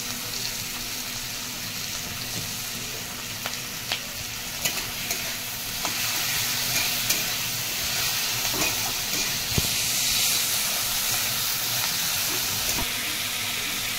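Sliced onions with salt fry in a pan for a Bengali home-cooked dish, giving a steady close sizzle and hiss broken by occasional scraping stirs and taps of the spatula, with no talking.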